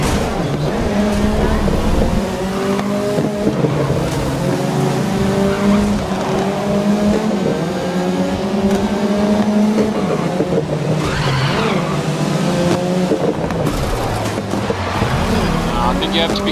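Race cars in the video game Grid 2019 roar continuously at close range, with engines rising and falling through gear changes and occasional tire squeal.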